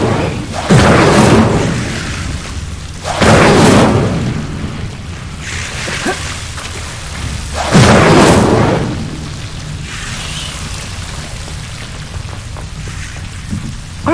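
Fire spell bursts from the Hogwarts Legacy video game, three loud whooshing blasts with a deep boom, spaced a few seconds apart, followed by quieter game ambience and faint crackles.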